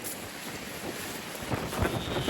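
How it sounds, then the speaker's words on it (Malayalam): Wind blowing outdoors near water by a boat, a steady broadband rush with gusts strengthening toward the end, close to the microphone and alone without talk. "കാറ്റ്"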